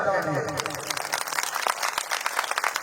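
An audience at a speech claps with both hands raised, a dense, fairly close burst of applause that thins into scattered claps, with a voice over the start.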